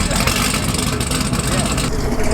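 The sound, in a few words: cammed car engine revving at car meet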